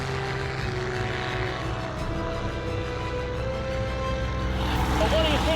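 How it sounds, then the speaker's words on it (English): A two-seater Spitfire's piston engine drones steadily in flight at just over 200 mph, a loud continuous propeller roar heard from inside the cockpit with no break. "This is my first go in a Spitfire, yeah."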